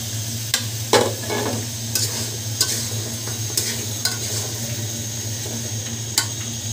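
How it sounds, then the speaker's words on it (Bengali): Jackfruit seeds being sautéed in cooked spice paste in a pan, a steady sizzle with a low hum beneath and sharp intermittent scrapes and knocks of a spatula, close and clear, with no talking. "এখন এই বিচিগুলি দিয়ে কষাবো।"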